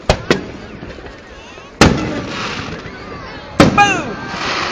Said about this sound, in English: I didn't think it was going to get the whole firework ridge sitting here, but it is.